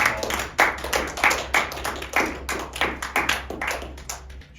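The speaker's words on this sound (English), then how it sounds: "So please, everyone, round of applause." Audience clapping at a university Survivor club season finale, a steady patter of many hands with rhythmic surges, fairly close and with no talk over it.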